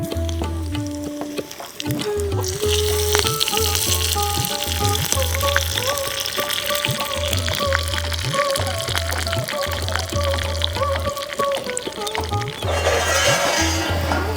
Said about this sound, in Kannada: ಸಾಸಿವೆ ಸಿಡಿದ ಮೇಲೆ 4-5 ಎಸಳು ಬೆಳ್ಳುಳ್ಳಿ ಜಜ್ಜಿದ್ದು ಅದನ್ನು ಹಾಕ್ತಾಯಿದ್ದೀನಿ.